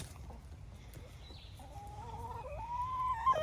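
Chickens pecking at watermelon give soft, close clucks and a rising, drawn-out call over a low background rumble.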